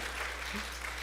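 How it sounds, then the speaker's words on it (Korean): A worship congregation applauds as encouragement during a church service, a dense wash of clapping that fills the short moment at moderate level without a break. "다시 한 박수로 격려할게요"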